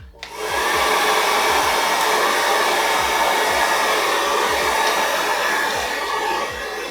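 Hair dryer blowing steadily and loudly at close range while hair is blow-dried for volume, a constant whooshing roar that starts abruptly and holds for several seconds, with no talk.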